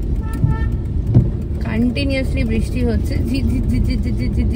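A car drives along a city road in steady drizzle, a constant close engine and tyre rumble with a horn-like tone sliding in partway through and faint voices in the background.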